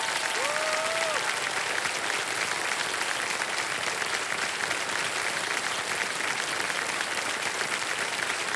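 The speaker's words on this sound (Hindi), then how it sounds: "तालियां बजती रहें इनके लिए जोरदार" Studio audience applause on a TV quiz show, a sustained, even roar of many clapping hands lasting the whole stretch, with a brief tonal sweep near the start.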